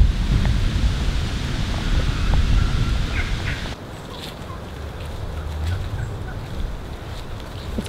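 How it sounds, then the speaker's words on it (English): A large flock of wild turkeys gobbling outdoors beside a road, several distant calls scattered over steady wind rumble that eases partway through. "It's crazy because I've never seen this many wild turkeys before."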